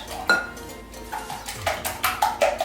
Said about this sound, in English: and then you're gonna whisk